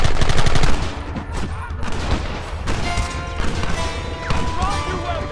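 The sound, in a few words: gunfire in video game Red Dead Redemption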